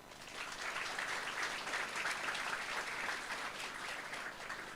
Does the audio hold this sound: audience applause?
yes